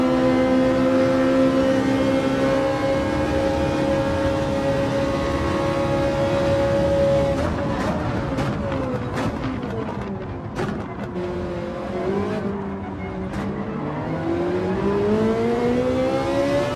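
Ferrari race car engine in a VR racing video game, a sustained high-pitched drone at near-constant revs, later dipping and wavering with gear changes and lift-offs, steady and prominent without talk.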